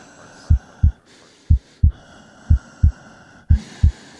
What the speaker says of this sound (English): We'll find her by the sound of her heartbeat